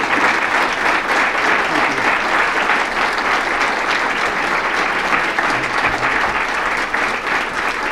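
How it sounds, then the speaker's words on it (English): A roomful of diners at a bowling hall of fame dinner in St. Louis claps loudly and continuously, a dense even wash of applause lasting the whole stretch. "Please give him another round of applause."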